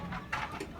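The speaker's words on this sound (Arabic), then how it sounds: "شوفوا هاد الفرياخ هذا الخنيسي اللي فطمتو اليوم، عاد خرجتهم عند الطريق" Young Khenisi pigeon squabs, newly weaned, give soft, brief cooing and chirping sounds in short bursts, close and faint, over a little background noise.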